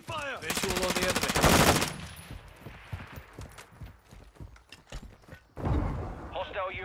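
Bursts of automatic enemy gunfire in Call of Duty: Modern Warfare II, a loud rapid volley up front, then scattered quieter shots, with another burst of fire and game voice activity near the end.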